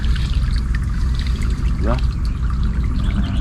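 Water pours steadily from a solar-powered pump on a calamansi farm, a continuous splashing flow heard close by with brief speech over it.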